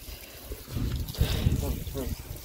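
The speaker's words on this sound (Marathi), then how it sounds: "इथे आपले हातपाय धुवून घेऊया." Water pouring and splashing as hands and feet are washed outdoors on the path to a Konkan temple, a running trickle up close with people talking nearby.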